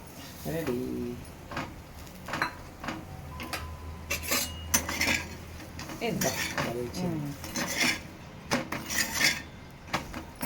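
A plate is handled while butter naan is served in a home kitchen, with scattered clinks and clatters of dishes and cutlery at close range and a voice talking at times.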